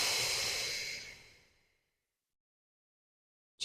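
A slow, steady exhale during a core activation exercise, with the breath pushed fully out as the navel draws in, breathy and close, fading gradually into silence.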